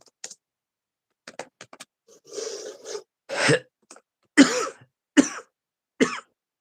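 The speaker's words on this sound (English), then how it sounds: "Then my cough is kind of coming back." Several coughs and throat-clearing bursts come in an irregular series, close to the microphone, with short quiet gaps between them.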